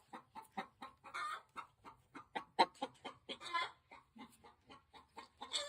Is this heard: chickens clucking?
yes